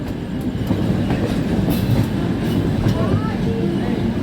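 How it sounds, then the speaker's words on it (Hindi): The Kashi Patna Jan Shatabdi Express rolls in near Pandit Deen Dayal Upadhyaya Junction with loud, steady rail rumble and rhythmic wheel clatter, close by, with a faint squeal toward the end. "और यहाँ आ रही है काशी पटना जन शताब्दी एक्सप्रेस।"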